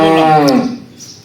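A high-yielding dairy cow expecting her third calf lets out one loud, close moo that lasts about half a second and trails off into quiet.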